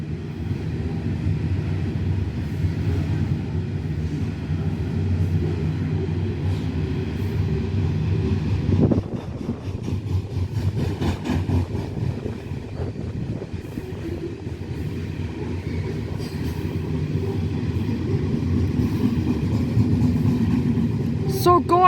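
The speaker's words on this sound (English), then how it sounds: "And this train has 82 wagons" A loaded Pacific National coal train with 82 wagons rolls past heading to Newcastle, a loud continuous rumble with rhythmic wheel clatter, while someone talks over it.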